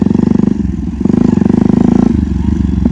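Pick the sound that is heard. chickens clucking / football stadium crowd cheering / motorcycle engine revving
motorcycle engine revving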